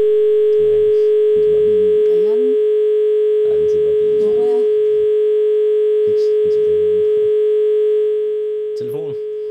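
Steady telephone dial tone running through most of the stretch, loud and continuous, with people talking over it in Danish; the tone cuts off near the end.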